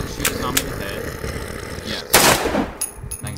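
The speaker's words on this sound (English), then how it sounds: "Now I'll load my gun and shoot the zombie." A zombie video game fires a few sharp gunshots, a couple of quick cracks early on and a louder blast near the end, over a busy game soundscape.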